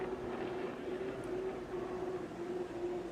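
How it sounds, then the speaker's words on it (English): A T55 L7 gas turbine engine drives a racing boat at full throttle during a powerboat race, a steady far-off whining roar with a constant high tone held throughout. "You can hear a better sound coming out of that T55 L7 gas turbine engine."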